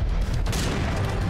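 A loud, dense burst of gunfire in a video game shooter, with booming shots crowding together over a brief moment.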